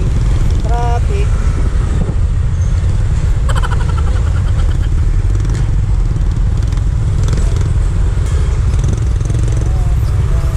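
Dense city traffic in Pasay, with motorcycle and car engines idling and revving close by in a constant loud rumble, and a few horn-like tones near the start.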